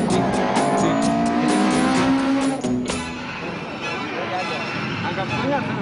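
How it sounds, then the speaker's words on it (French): Rally car racing at a regional rally in Finland, a loud engine revving hard and shifting with rising pitch, then dropping off as the car passes, with a voice speaking over the engine noise. "Retour en Finlande pour une course de rallye régionale."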